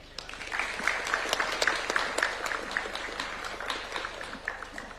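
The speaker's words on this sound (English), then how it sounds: "Another round of applause for Mr. Kuria Mushiri" Applause at a State House reception for the UEFA Champions League trophy in Kenya: a modest round of distinct, scattered claps from a small gathering, fairly quiet and steady with no talk over it.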